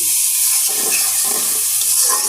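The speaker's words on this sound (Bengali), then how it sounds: "এবার দেখেন মশলাটা খুব সুন্দর কষানো হয়ে গেছে একদম স্মুথ হয়ে গেছে আর তেলটাও উপরে উঠে আসছে" Spice paste for egg korma fries in oil, a loud continuous close sizzle with soft wet bubbling and faint stirring scrapes throughout.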